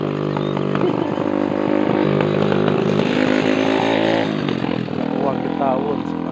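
A motorcycle engine runs steadily close by during an outdoor overlook stop in Mabinay, a continuous loud buzzing drone with slight pitch shifts, while people talk over it.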